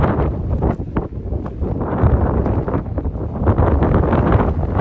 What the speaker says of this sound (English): Oh, it's very, very, very, very windy.